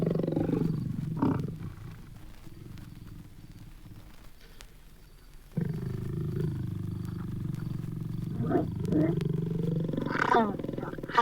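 Big cats making courtship love calls, low rumbling moans and growls that swell and fade across the stretch, loud and close, with a brief quieter gap before they resume more strongly.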